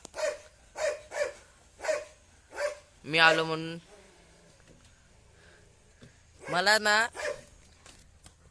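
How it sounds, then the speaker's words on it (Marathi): A dog barks in a quick series of short, sharp barks, then a voice follows, with a few more yelps and whimpers nearby. "त्याचं ते कुत्रं भुकते तिकडं"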